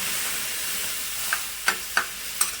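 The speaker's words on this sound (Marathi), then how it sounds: "थोडासा तडतड तडतड आवाज येत असेल तुम्हाला" Steady sizzling hiss from a hot pan, broken by a few sharp crackling pops, close and fairly loud, while dried Bombay duck fish is prepared.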